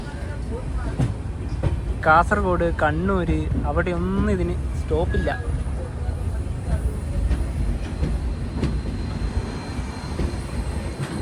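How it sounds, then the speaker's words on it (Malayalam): Duranto Express train pulling out of Mangaluru Junction, a steady rolling rumble with faint clatter running throughout, while someone talks over the first half. "അങ്ങനെ മംഗളൂരു ജംഗ്ഷൻ ഇതാ ട്രെയിൻ എടുത്തു"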